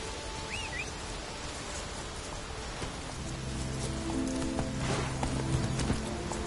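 Roach, a horse in The Witcher 3, gallops with steady rhythmic clip-clop hoofbeats over a continuous hiss of rain, the pace and loudness building after a few seconds.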